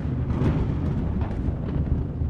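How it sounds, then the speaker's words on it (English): Thunder from the opening storm of Shakespeare's Macbeth as a sound effect: a continuous deep rumbling roll with crackling bursts over it, steady and loud for a couple of seconds with no speech. "Thunder booms and lightning crackles as three bearded women enter the stage."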